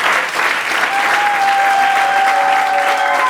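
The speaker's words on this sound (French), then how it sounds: "j'aimerais qu'on acclame vraiment comme des enfants de Dieu contents" A church congregation at a Sunday morning service claps in a loud, dense, sustained round of applause, with a faint tone running underneath.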